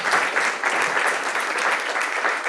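Conference audience applauding the speakers before a question session, a steady, fairly dense clapping from a room-sized crowd sustained for a couple of seconds.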